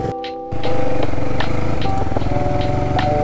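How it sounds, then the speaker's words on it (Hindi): A motorcycle engine revs hard inside a tunnel, its loud droning roar echoing off the walls, rising abruptly after a brief quiet start and holding steady with slight pitch shifts. "क्या आवाज गूंजती है ना भाई अंदर, हमारा हर बार का है जब भी यहाँ से आएंगे वैसे ये टनल आया वैसे रेप करना ही है"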